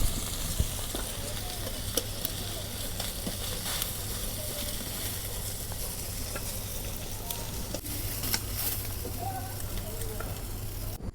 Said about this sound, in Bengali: তাওয়া হলে তাওয়ার মধ্যে মাছ ভাজা আরাম।